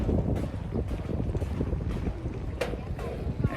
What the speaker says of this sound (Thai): เรือครับผม